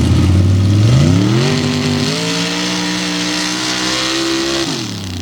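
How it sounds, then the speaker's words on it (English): A black Chevy Colorado paddle-tire truck at an open paddle tire racing event roars past up close, its loud engine rising in pitch as it accelerates, then holding a steady high drone before easing off at the end. "Up after them was Dylan Cato in this beautiful black Chevy Colorado out of the Show Me stage."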